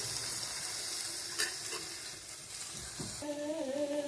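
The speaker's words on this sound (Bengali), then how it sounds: "যেরকম বিরিয়ানির বেরেস্তা হয় ঠিক সেই রকম ভাবেই ভাজবো পেঁয়াজগুলিকে।" Sliced onions frying in oil with a pinch of salt in a pan, browning like biryani birista; a steady close sizzle with stirring scrapes, and a brief whistling tone near the end.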